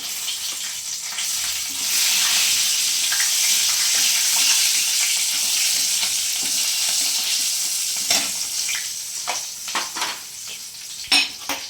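Black cumin seeds and slit green chillies hit hot oil while a Bengali fish curry is being made, giving a loud, continuous close sizzle. Sharp stirring clinks and scrapes against the pan break in near the end, with no talk.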